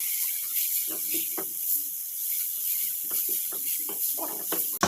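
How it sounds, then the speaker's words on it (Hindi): Vegetables fry in a pan with chaat masala, producing a constant close hiss with scattered soft crackles and stirring clatter, ending in a sharp knock. "और इसको अच्छी तरीके से फ्राई कर लेना है आपने।"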